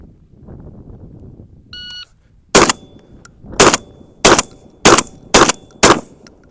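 A Mossberg 940 Pro semi-automatic shotgun fires reduced recoil Federal slugs outdoors: a short electronic beep, then six sharp, loud reports in quick, slightly uneven succession.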